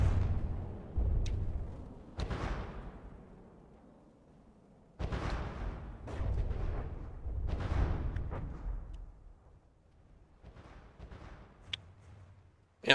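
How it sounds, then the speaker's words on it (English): Heavy, booming torpedo explosions striking a ship in a WWII naval battle game, several deep rumbling blasts spaced a few seconds apart, each swelling and then slowly decaying, with sharper cracks in between. "Let's see what the torpedoes do this time."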